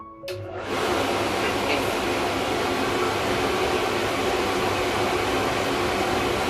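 A hair dryer blows steadily while drying a dog's coat, a loud continuous whooshing roar that holds without pause.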